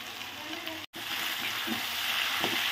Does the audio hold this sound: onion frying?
yes